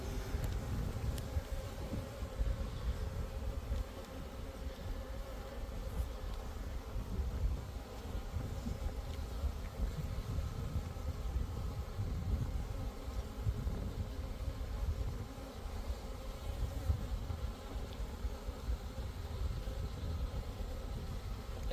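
Honey bees hum in a dense, steady swarm-like drone from an opened hive during hive splitting with mated queens, continuous and close with no break.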